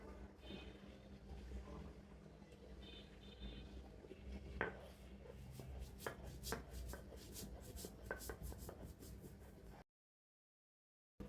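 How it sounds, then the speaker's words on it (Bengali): Ingredients crushed by hand on a stone grinding slab, river shrimp with coriander leaves, dried chillies and salt: steady scraping and rubbing strokes with scattered knocks, close and moderately loud, ending in silence. "এখন আমি এটা পাটায় বেটে নিব।"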